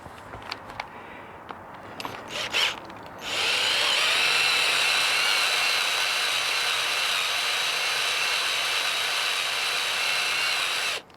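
A power drill bores into the frame of a Honda CRF450L motorcycle, starting with a few brief clicks and handling noises, then running as a loud, steady high-pitched whine for about eight seconds before stopping abruptly.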